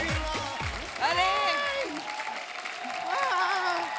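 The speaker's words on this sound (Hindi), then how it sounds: "ओ महारानी टू की कास्ट के लिए जोरदार तालियां हो जाए" A studio audience at The Kapil Sharma Show claps and cheers loudly for the cast of Maharani 2, with a steady burst of applause while a host's voice rings out over it.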